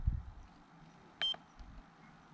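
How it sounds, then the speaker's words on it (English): A single short electronic beep from a Flysky FS-GT5 radio transmitter button, crisp and fairly high-pitched, in a quiet room with faint low thumps before and after. "in which you'll hear a higher beep"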